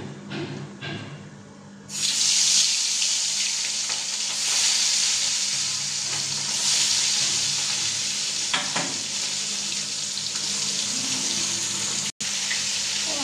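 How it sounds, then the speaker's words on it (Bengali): Hilsa fish dropped into hot oil, bursting into a loud, steady sizzle that crackles and hisses close up for several seconds, with brief stirring scrapes and a soft gap near the end. "তেল আমার গরম হয়ে গেছে আর এবারে আমি ইলিশ মাছ দিয়ে দেবো।"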